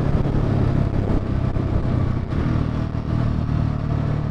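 KTM 690 single-cylinder motorcycle being ridden, a steady, loud engine drone with wind rush running continuously throughout, close to the rider.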